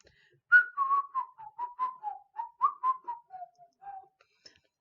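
Someone whistles close up, a run of roughly a dozen short pitched notes sliding up and down in a loose melody, with nothing else around it.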